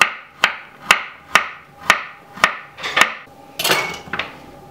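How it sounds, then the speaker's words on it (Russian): A knife chops carrots into rounds on a cutting board, giving eight or so sharp, evenly spaced knocks that quicken slightly toward the end, close and clear with no talking. "Морковь нарезать колесиками или куточками."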